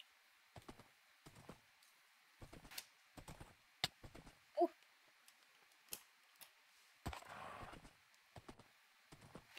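Clip-clopping horse hooves in the game Minecraft, sounding as irregular sharp taps and clicks spread through the stretch, fairly close and moderately quiet, with a brief louder burst near the end.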